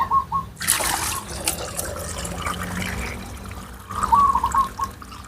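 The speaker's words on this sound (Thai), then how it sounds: "ให้เพื่อนนำน้ำมาเท เทน้ำเข้าไป" Water pours and splashes into a bottle for several seconds, a steady gurgling stream with brief louder bursts at the start and near the end.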